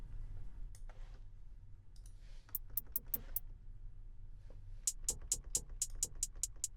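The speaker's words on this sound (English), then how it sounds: "Turn down this decay, and it becomes super short and clicky." A short, clicky hi-hat sample with its decay turned down in Ableton for a wavy beat, played as a few crisp ticks and then a faster even run of sharp, dry clicks over a quiet low hum.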